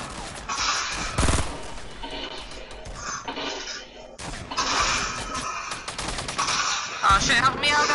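Rapid bursts of Fortnite gunfire, close and loud, with clustered volleys and sharp single shots between brief lulls across several seconds.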